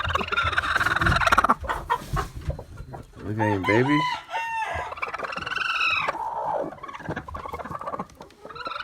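A flock of chickens clucks and squawks loudly and close in a barn with eggs and chicks, the calls overlapping and busy while someone speaks briefly over them.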